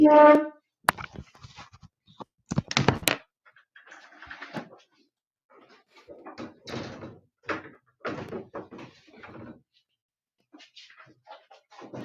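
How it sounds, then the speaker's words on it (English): A door swings open in strong wind, with a couple of sharp knocks and a slam-like bang up front, followed by gusty rustling and movement while a voice speaks intermittently. "It's super windy here, and Oh my no. door has just opened."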